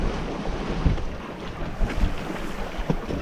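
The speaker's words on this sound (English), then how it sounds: "Having ourselves a lovely sail here" A sailboat under way in the Exumas near Staniel Cay carries a continuous rush of wind over the microphone and splashing water, with a few soft thumps from the hull.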